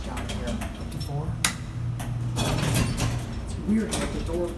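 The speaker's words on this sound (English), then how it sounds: "the door doesn't open all the way, then it goes back, and then it calls here up" Door of a vintage Haughton traction elevator in a Pittsburgh building sliding partway open and back with mechanical rumbling and a sharp clunk, while people talk over it.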